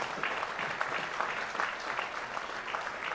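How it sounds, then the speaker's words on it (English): An audience at a Jamaican business leaders award event claps for a minister and the government, a fairly faint, even round of applause heard from a distance. "Please give him and the government a round of applause"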